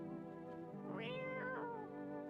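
Cat in the video game No I'm Not A Human gives a single drawn-out, wavering meow, close and clear over a low humming background drone, with no talking.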